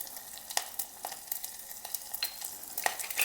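A tempering of mustard seeds, cumin, slit green chillies and hing with garlic sizzles in hot oil, a close, steady hiss punctuated by quick crackling pops.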